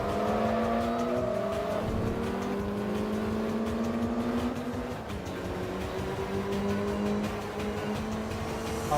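Race car engine in Forza Motorsport 2 droning loudly and steadily, with pitch sweeps and tire noise as the car spins out, continuous throughout with no talking.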